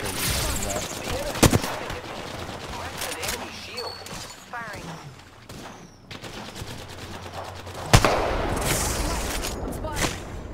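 Rapid video game gunfire in a ranked duo shooter match, bursts of shots and impacts close and loud, sharpest near the start and around the eighth second, with players talking over the action.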